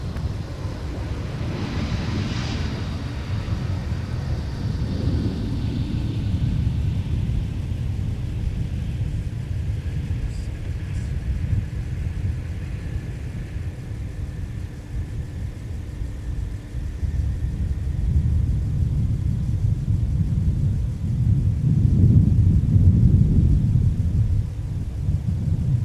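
Airliner taking off at Minneapolis–Saint Paul airport, a deep, distant jet roar with wind buffeting the microphone, swelling louder toward the end.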